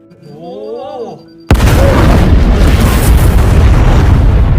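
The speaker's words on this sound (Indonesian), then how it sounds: "mengirimkan sebuah bom ke tempat laboratorium miliknya Sadakuni" A bomb goes off at a laboratory in a film scene, a sudden loud blast that cuts in after a quieter stretch of tonal music and rolls on as a dense, sustained roar of debris and rumble.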